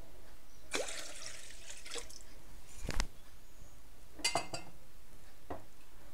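Water and milk pour into a food processor bowl, heard as splashy bursts and drips between clinks against the container, faint and close in a quiet kitchen.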